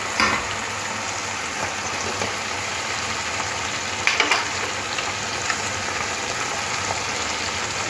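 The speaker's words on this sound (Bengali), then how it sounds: "টমেটোটাও ভাজতে হবে।" Tomatoes frying in a pan for a chicken curry give a steady, even sizzle throughout, with a couple of brief louder crackles partway through and no talking.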